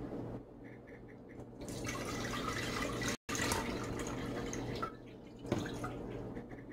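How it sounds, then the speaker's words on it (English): Water is poured into a cooking pot, giving a soft, steady splashing trickle that runs for several seconds with a brief break midway, fairly quiet and close. "we're just going to pour this water into the pot."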